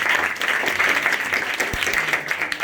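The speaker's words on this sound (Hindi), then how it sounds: "ज्ञान अच्छा है, बताइए जोरदार ताली।" Loud, dense applause from a lecture audience in Surat, Gujarat, steady clapping throughout with no pauses.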